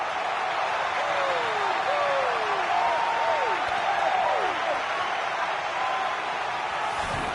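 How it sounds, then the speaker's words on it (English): Stadium crowd in the EA FC 26 football video game roars after a goal in a derby, a dense, sustained wash of cheering under a commentator's voice. "And hasn't this crowd enjoyed it?"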